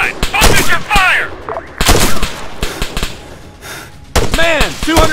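Rifle and machine-gun fire crack through an infantry assault on a village in ARMA 3: sharp, loud shots and short bursts in an uneven rhythm, with shouted voices between and over them.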